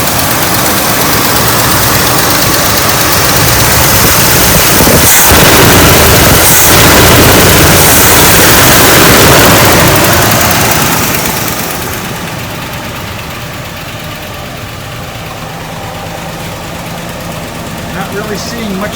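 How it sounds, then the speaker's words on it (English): A 1966 Chevrolet Caprice engine that has sat off the road for years, running loud and steady close by with a slight lifter tick, then settling to a quieter idle; speech occurs briefly. "It's got a little lifter tick"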